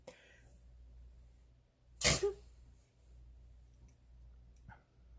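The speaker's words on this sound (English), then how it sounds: "I'm gonna sneeze, excuse me." A single sharp sneeze bursts out in a quiet room, followed by a brief sniff and soft background hiss.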